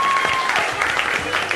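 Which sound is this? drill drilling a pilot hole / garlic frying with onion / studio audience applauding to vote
studio audience applauding to vote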